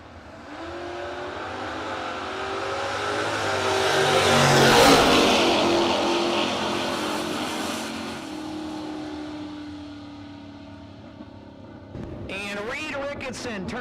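Drag race cars, including a Mopar from New York, run a no-box race event with a rising engine roar that peaks and then recedes into the distance. An announcer talks over the final seconds.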